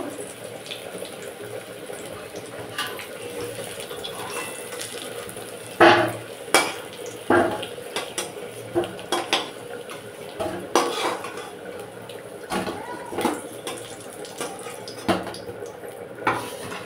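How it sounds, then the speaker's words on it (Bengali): Fried potatoes for chicken biryani are lifted from a hot pan: sharp metallic clinks and scrapes of a utensil against the pan at irregular intervals over a soft background sizzle, with no speech. "এখানে আলুগুলো ভাজা হয়ে গেছে, এবার আলুগুলোকে তুলে নেব।"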